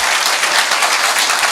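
Loud, dense applause from an audience at a Hindi comic poetry recital, a continuous wash of clapping with no voices on top.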